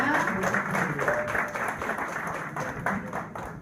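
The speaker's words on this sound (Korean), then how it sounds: "다시 한번 큰 박수 부탁드립니다" An audience at the 2014 Seoul Senior Film Festival press conference applauds, a moderate, even wash of clapping that holds steady and fades slightly toward the end.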